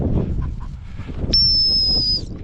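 A single sharp, high dog-training whistle blast for a gun dog rings out for about a second, loud and close, following a stretch of low outdoor rumble and wind.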